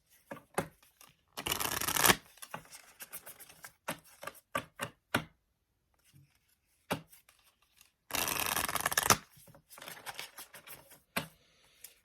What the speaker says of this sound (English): let's shuffle this guy here